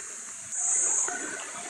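A river flows behind a house in Surigao with a soft, continuous rushing and trickling, heard fairly close, with a faint high whine briefly rising above the water.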